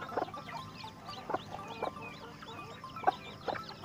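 Newly hatched native chicks from brown eggs peep and cluck in short bursts at irregular intervals, close by, with faint chirps between them over a quiet background.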